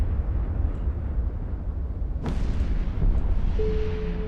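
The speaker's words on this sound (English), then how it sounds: "Dude, these explosions, these new explosions" Space combat explosions in the EVE Ascension video game: a steady rumbling roar with one sharp blast cracking through about midway, followed by continued booming wash and a faint tonal hum near the end.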